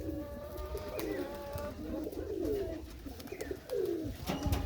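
Giribaz-line pigeons coo in soft, repeated low calls, close by and faint, over light background rustling with no talking.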